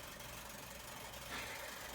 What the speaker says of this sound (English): well, it's a big dryer. It vibrates the walls